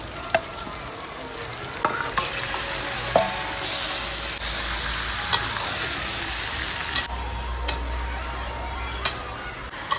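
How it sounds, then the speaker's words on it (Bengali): Meat sizzles steadily in hot oil in a pan after fried onions, for a Bengali kosha mangsho curry, with a spatula stirring and scraping through it in sharp, scattered clicks; no voices. "তো তেলের মধ্যে যদি একটু মাংসটা ভেজে নিই, মাংসটা ভাঙবে না একটাও।"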